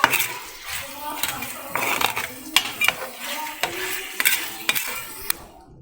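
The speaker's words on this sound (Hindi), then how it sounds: "अब हम इसको थोड़ा मिक्स करेंगे अच्छे से" Chicken is stirred in a metal pan for chicken chilli. A spoon clinks and scrapes against the pan in a steady series of sharp taps and knocks over a soft sizzle, with no talking.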